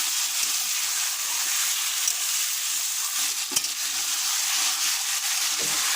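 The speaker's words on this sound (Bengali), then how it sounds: "দু মিনিট হয়ে গেছে এবারে একটু নাড়াচাড়া করে নিই" Homemade rice biryani fries in a pan with a dense, constant sizzle while a spoon stirs through it, adding occasional soft scrapes and bumps, close and steady.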